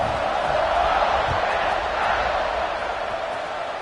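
Football stadium crowd at a Purdue game cheering after a touchdown drive, a broad sustained roar of many voices that stays loud and steady, fading slightly toward the end.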